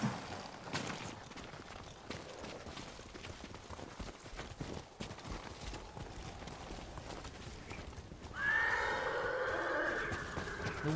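Horses whinny and neigh in Ghost of Tsushima among clopping hooves, the calls rising through busy game ambience, with a loud, bright neigh near the end.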